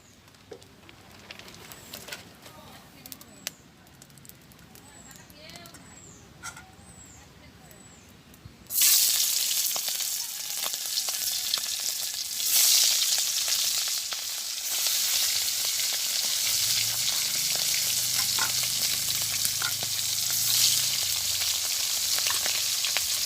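Hilsa fish frying in oil in a pan at a village kitchen, a loud steady sizzle that jumps up sharply partway through and holds bright and continuous, with quieter clatter and bird-like chirps before it.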